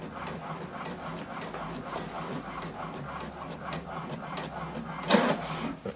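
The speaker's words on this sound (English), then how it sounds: "So now this document is, you can see, is going to print the other side." An HP printer running a manual double-sided print job, a low steady mechanical whir with soft rhythmic clicks, then a louder feed clunk near the end, close and moderate.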